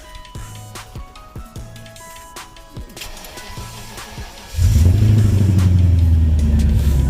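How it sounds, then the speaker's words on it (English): Starter clicks and whirs in short bursts on a BMW E38 with a weak battery, then the engine catches and settles into a loud, steady rumbling idle close by. "Let's see if the battery's charged enough to start the car."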